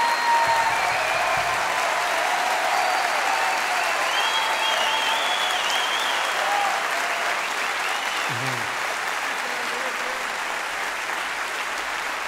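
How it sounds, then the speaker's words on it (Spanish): Audience applause for an accordion player at a concert with a symphonic band, a steady, full wash of clapping that holds loud throughout and eases slightly toward the end. "Fuerte el aplauso para Jorge Sosa"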